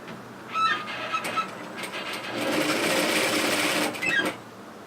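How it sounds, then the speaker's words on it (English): A sewing machine runs a line of tack stitches around the neck edge of a hoodie, with short bursts of rapid mechanical clatter and then a longer sustained run, close and fairly quiet. "So I'm just going to run a line of tack stitches"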